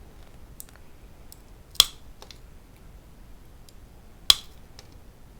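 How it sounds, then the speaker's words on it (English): Two sharp, isolated snips from mosaic nippers cutting Christmas ornament pieces, spaced a few seconds apart, close and crisp against a quiet background. "I'm actually going to try to cut this just with my nippers"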